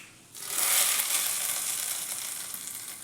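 Hot tempering of mustard seeds and curry leaves is poured into hotel-style chutney and bursts into a loud, steady sizzle that starts suddenly and keeps crackling, fading only a little.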